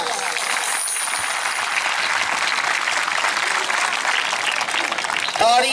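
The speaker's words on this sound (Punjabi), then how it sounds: "ਸ਼ਫੀਕ ਚਿਸ਼ਤੀ ਵਾਸਤੇ ਇੰਨੀਆਂ ਕੁ ਤਾੜੀਆਂ ਮਾਰੋ" Sustained audience applause breaks out at a Punjabi poetry or music stage event in honour of Shafiq Chishti, a dense, steady clatter of many hands that stays loud throughout and swells slightly at the very end.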